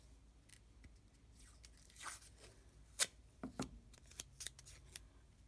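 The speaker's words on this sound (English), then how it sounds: "And now we can go ahead and tape the battery in." Tape being pulled and torn while a battery is fixed onto a homemade scribble bot, a close series of short crackling rips and snaps, quiet overall and without talk.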